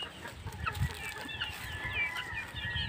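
Chicks of fighting cocks held in a net make soft, scattered peeping and chirping calls against a low rumbling background, with no talk.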